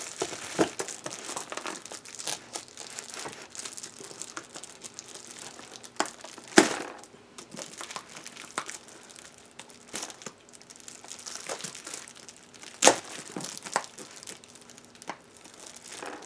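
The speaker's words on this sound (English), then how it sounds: "I guess I need to open it" Plastic wrapping on a mail package crinkles and rustles in bursts as it is pulled open by hand, with a couple of sharper tearing snaps, close and fairly quiet.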